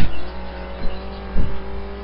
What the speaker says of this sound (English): See, I started to oversteer and then just applied the gas.